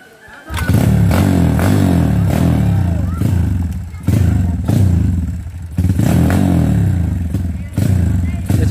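A motorcycle engine starts loud and close, then revs repeatedly in surging bursts with rattling clatter as it rides off, with voices talking over it.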